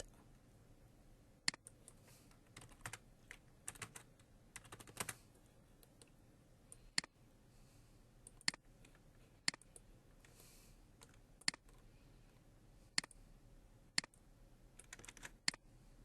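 Someone types on a computer keyboard while 3D modeling a bed, with sparse, quiet key clicks and occasional sharper single presses spaced a second or two apart, alone in a near-silent room.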